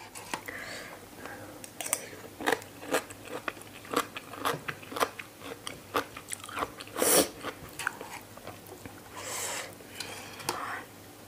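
Crunchy bites and chewing of a very spicy, large tray of papaya salad with radish and bamboo shoots, eaten alone, close to the microphone: a run of sharp, irregular crunches and crackles with brief gaps between bites.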